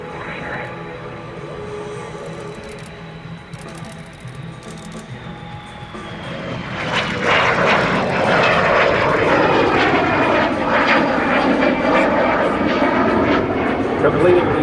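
A 1945 de Havilland DH-115 Vampire jet performs an aileron roll in a flying display at an air show. Its distant whine swells into a loud roaring pass midway, and an announcer talks over it throughout.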